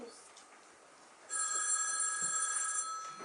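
Telephone ringing indoors in a stage play, a steady electronic ring that starts partway through and sustains loud and clear to the end, with faint talk before it begins.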